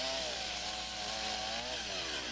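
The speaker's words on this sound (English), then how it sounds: "The Log Wizard is a one-of-a-kind chainsaw attachment that can be used for notching and shaping of timbers" A chainsaw fitted with a Log Wizard notching and shaping attachment runs steadily against a timber log, a loud continuous high-pitched whine and rasp with no pause or voices.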